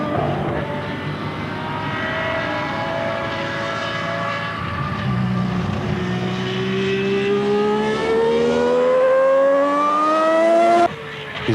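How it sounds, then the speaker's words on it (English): A Ferrari 12-cylinder Formula One car accelerating hard on a wet circuit. The engine pitch climbs steadily through the gears in a loud, sustained high-revving wail, with a brief cut near the end, and no voices. "The 12-cylinder engine snarls as Mansell accelerates away, with apparent disregard for the wet circuit."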